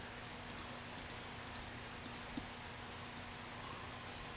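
A computer mouse clicking while working in SketchUp 2016 software, sharp quiet clicks arriving in irregular pairs and singles over a faint steady hiss, with no talk.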